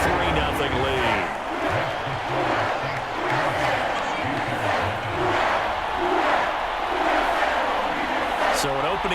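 Stadium crowd in the Madden NFL 24 football game, a dense, constant roar and murmur of fans filling the background while a commentator talks over it.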